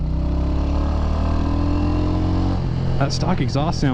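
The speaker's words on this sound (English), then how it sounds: "even though it's a small bike with a stock exhaust" A small motorcycle with a stock exhaust drones steadily up close, then revs in several quick rising bursts near the end.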